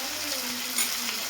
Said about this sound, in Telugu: బాగా ఆయిల్లో వాడినిద్దాం బెండకాయలని